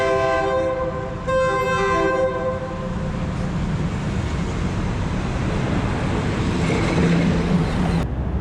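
A train at Wutthakat Station in Thailand sounds its horn in two blasts, then rolls past with a steady, loud rumble of wheels and carriages that fills the whole stretch.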